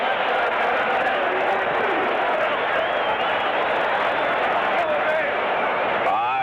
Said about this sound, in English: this crowd has really warmed up to this ball club